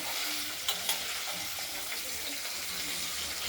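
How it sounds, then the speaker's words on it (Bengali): Paneer pieces frying in a pan for a spiced potato and tomato paneer curry, a steady close sizzle with a few light clinks and no voices. "পনিরগুলো ভাজা হচ্ছে"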